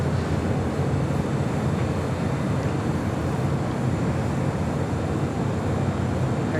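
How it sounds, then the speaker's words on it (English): A China Cargo Airlines Boeing 777 freighter on approach to LAX, a broad continuous low jet roar that stays loud and steady without breaks. "China Cargo Airlines flight 221 coming in from Shanghai and a 777 freighter"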